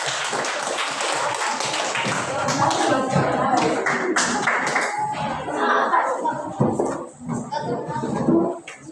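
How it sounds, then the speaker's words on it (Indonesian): Classmates clap for a student group coming forward to present in a classroom, close, uneven clapping with thumps and taps, with voices and movement mixed in as it tapers. "Tepuk tangan untuk kelompok 4"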